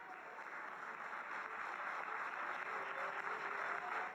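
Applause blended with booing from a crowd at a city council meeting, a steady broadband roar of clapping and jeers sustained evenly throughout with no clear pauses.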